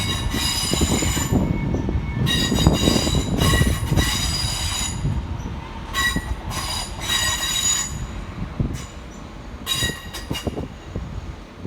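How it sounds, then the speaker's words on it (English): A Northern Class 323 electric train departs Manchester Piccadilly, its wheels squealing loudly and repeatedly against the rails, with rumbling running noise throughout and no talk. "Departing over on the far side is 323230, working the 1703 Northern service through to Hatfield."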